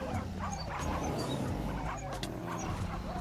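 Puppies in Hypixel Skyblock whimper, yip and bark repeatedly in loud, overlapping bursts against busy game noise.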